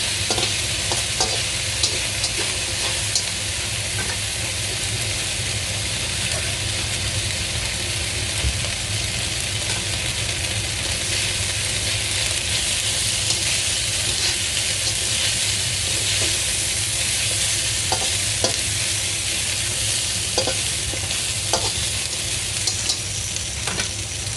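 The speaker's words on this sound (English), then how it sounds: "just keep frying it till it's brown on every side." Meatballs frying in a pan, a steady dense sizzle that holds at an even level throughout, close and continuous with faint stirring scrapes.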